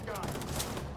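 An AK assault rifle fires in The Division 2 as a rapid, continuous burst of shots at moderate loudness, with game noise layered beneath.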